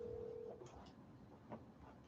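A phone call being dialed during a meeting, with a brief steady tone at the start followed by a few faint, scattered dialing blips over quiet background hiss.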